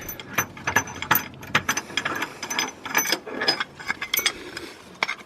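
A ratchet rapidly clicks close up, loosening a bolt on a BMW E60 in quick bursts of sharp pawl ticks with short pauses between strokes.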